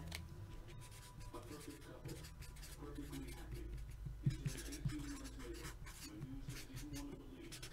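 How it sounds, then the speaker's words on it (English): Pen scratching across paper while something is written down by hand, faint and continuous under a low background hum, with brief speech. "Let me write that down."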